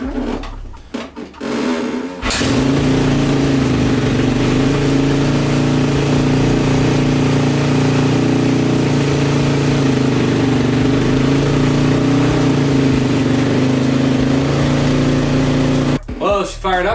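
A KTM 250 dirt bike fires up on the electric start after a brief crank, then holds a loud, steady high idle up close for about fourteen seconds before cutting off.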